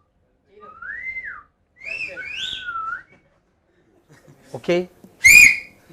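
Several people in a lecture class take turns whistling, a few rising and falling tones followed by two sharp, loud piercing blasts, with a brief spoken word between.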